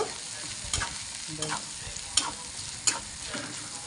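Ground cumin, coriander and chilli powder are stirred in a pan while making pasta: a soft continuous sizzle broken by several brief scraping strokes of the spoon.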